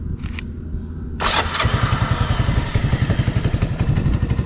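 A small 125 cc gas engine that has sat unused for about a year, started with choke: a brief cranking sputter, then it catches and runs with a fast, loud, clattering idle.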